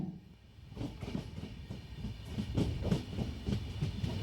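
A passenger express train rumbles steadily nearby as it arrives at Mangalore Junction, wheels clacking rhythmically over the rails as it rolls slowly along.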